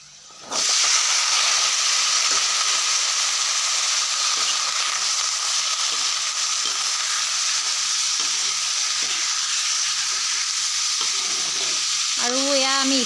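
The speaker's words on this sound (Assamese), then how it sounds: "আৰু এয়া আমি ইফতাৰ কৰিবৰ কাৰণে ৰেডি কৰি আছোঁ বুট ভাজিছোঁ" Chickpeas frying in a pan for an iftar meal give off a loud, steady sizzle and hiss, with faint regular clinks of stirring. A brief tonal whine rises near the end.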